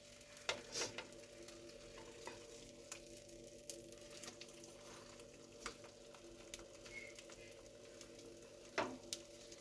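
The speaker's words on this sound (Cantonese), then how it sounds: "我以前覺得咧煎蛋咧係即係會好驚啲油彈咯" An egg fries in a pan with a soft, continuous sizzle, quiet and close, broken by occasional clicks and taps from a utensil.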